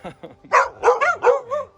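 Two pet dogs bark indoors at someone arriving home, about four loud, close barks in quick succession with a person's voice mixed in.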